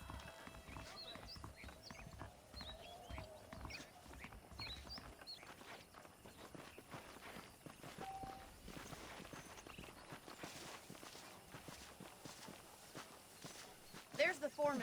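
Horse hooves clip-clop at a steady walking pace in Red Dead Redemption, fairly quiet under game ambience and occasional spoken dialogue.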